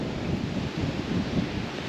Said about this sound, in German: Der Wind geht halt ein bisschen sehr.